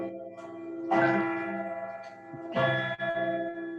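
A church bell rings near a Renaissance-era garden at the Château d'Amboise, two loud resonant strikes about a second and a half apart, each leaving a long humming ring that decays between them, with no talking.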